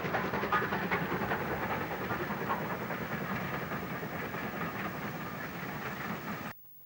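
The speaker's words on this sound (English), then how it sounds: "A Class 5 casts long shadows in the evening sun as it hurries north with a semi-fast service" A Class 5 steam locomotive hurries north with a semi-fast train through the Somerset countryside on a summer evening, a steady broad rumble of wheels and exhaust close by, loud and unbroken for several seconds before cutting off abruptly.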